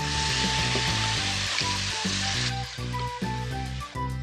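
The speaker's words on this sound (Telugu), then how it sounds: "మనం కడిగి కోసించుకున్న పాలకూరని గిన్నెలో వేసుకుంటున్నాను ఫ్రెండ్స్" Washed, chopped spinach hits a hot pan and sizzles loudly up close, a steady hiss that eases after a couple of seconds, with soft stirring clatter and no voices.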